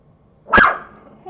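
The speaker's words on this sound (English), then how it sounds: "You don't have to bark at him" A single sharp dog bark, close and loud, rising out of a quiet indoor room and fading quickly.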